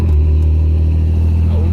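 A Chevrolet S10 pickup with a 2.8 V6 cruises along, its low steady engine drone and road rumble filling the cabin in a short, even stretch.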